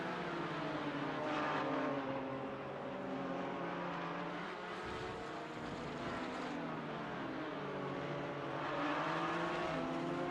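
GT4 race cars at Silverstone in a racing game, several engines droning and shifting together at steady loudness, with layered whining tones rising and falling as the cars gain pace.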